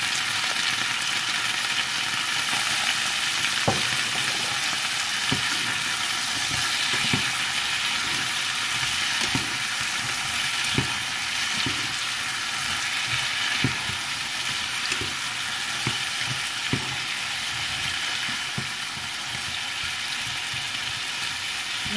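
Garlic, shallot and vegetables frying in a pan over medium heat for a chayote omelette dish, a continuous sizzle with occasional stirring clicks.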